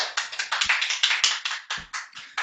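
A TV studio audience clapping to welcome a guest onto the set, a close, steady patter of separate hand claps with no voices over it.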